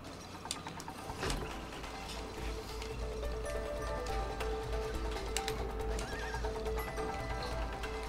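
In the video game It Takes Two, a horse whinnies loudly over clattering hoofbeats and ratcheting, gear-like mechanical noise, all fairly constant across the clip.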